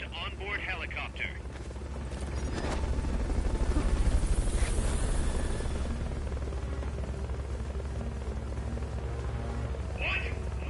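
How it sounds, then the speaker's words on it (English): A Fulton recovery helicopter in the video game Metal Gear Solid Peace Walker gives a steady rotor roar that swells midway and holds. Brief voice-like sounds come near the start and near the end. "Fulton recovery helicopter is complete."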